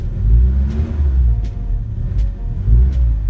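A manual car's engine revs while the car reverses under throttle as the clutch is let out: a loud, low rumble that rises and falls, with a few faint clicks over it and no voices.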